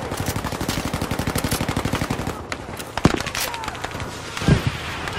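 Rapid automatic gunfire in the Battlefield boat game mode Breakthrough on the Pacific, a steady close burst for about two seconds followed by scattered single shots and impacts, with a voice talking faintly over it.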